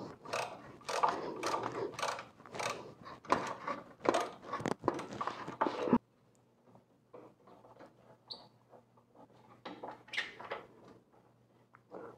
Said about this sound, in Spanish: voy a tener que usar la matraca mediana y usar el mismo dado